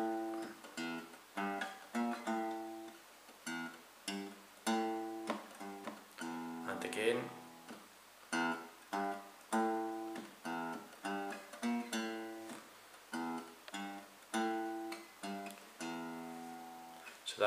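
A single-note melodic line from a rock song is picked out on guitar, notes spaced in a steady rhythm with short pauses, played clearly and alone.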